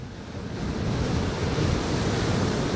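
Strong headwind roars across the microphone while riding a bicycle at about 28 miles an hour down a street, a loud, steady broadband buffeting that builds within the first half second and holds without break.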